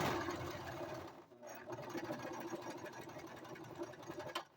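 A sewing machine runs steadily, stitching the shoulder seam of a child's St. Patrick's Day vest, with a short pause partway through before the motor continues up close, and no talking.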